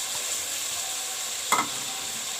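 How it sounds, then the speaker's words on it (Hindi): Minced meat (keema) fries in masala in a pan with a dense, steady close sizzle and one brief scrape of stirring partway through, with no talking. "अब कीमा डाल के हम इसे अच्छे से भूनेंगे।"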